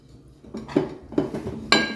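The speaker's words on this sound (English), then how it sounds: "I just butter my pans to make sure the loaf doesn't stick" Metal bread loaf pans are picked up and set down in a home kitchen, giving three separate clanks with rattling, close and fairly loud, with no talking.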